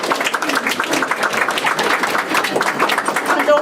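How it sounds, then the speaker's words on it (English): Audience clapping at an art gallery collection event, a loud, close, continuous patter of many hands, with faint voices beneath it. "Give them a clap."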